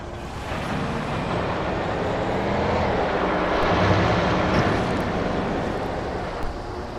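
A helicopter in Alan Wake drones steadily, a broad continuous engine and rotor rumble that swells slightly in the middle and holds for the whole stretch.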